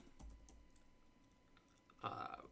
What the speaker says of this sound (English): So here's what I'm going to type.